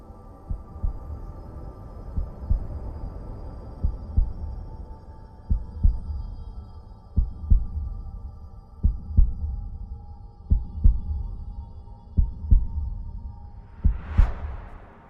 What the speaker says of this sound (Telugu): నీ క్లోజెస్ట్ సౌండ్ ఏంటి? నీ హార్ట్ బీట్